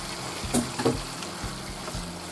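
Raw shrimp dropped into a pan of hot Alfredo sauce, giving a short burst of close sizzling and frying that crackles briefly, then settles into a low, steady bubbling hiss.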